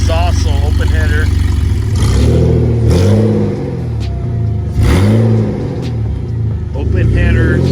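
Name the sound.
BMW E46 car engine running with open headers, no exhaust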